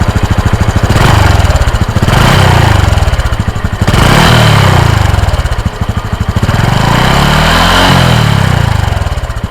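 A Honda Cross Cub 110 motorcycle with stock, untuned exhaust idles close by, a steady low, fairly quiet and plain throbbing note with slight rises and dips in pitch, running alone without any talking.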